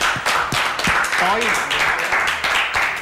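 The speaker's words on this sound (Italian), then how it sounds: "un applauso a Michele" Audience applauding a drummer named Michele as he is introduced at an Italian live show, a steady wash of claps throughout with a voice talking over it.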